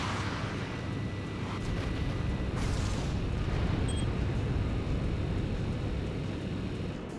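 A burning oil rig struck during combat in the flight game Jane's Advanced Strike Fighters, heard as a steady, dense roar of fire and rumble with a brief brighter burst partway through and no voices.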